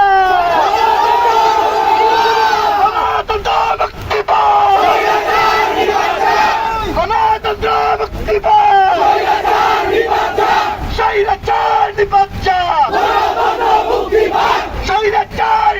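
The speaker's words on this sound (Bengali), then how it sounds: "আমরা একটি স্লোগান ধরবো আমাদের সকলের পরিচিত স্লোগান স্বৈরাচার নিবন্ধন" A loud street crowd of protesters, marching in solidarity with a student movement, chants a slogan together in repeated rhythmic bursts of massed voices, with brief gaps between phrases and a close, full, echoing roar.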